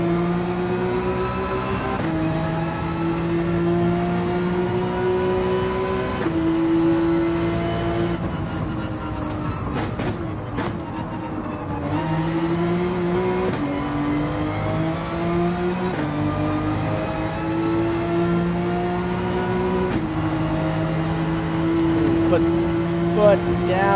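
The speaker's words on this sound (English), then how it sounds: "Foot down to the metal, pedal to the metal, all the way up that hill." A race car in Gran Turismo 7 at Laguna Seca climbs uphill under full throttle, its engine holding a loud, steady harmonic drone that rises through repeated gear changes, with a brief lift mid-run, while a voice talks over it.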